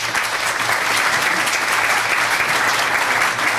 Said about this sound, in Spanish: les pido a ustedes que lo recibamos con un aplauso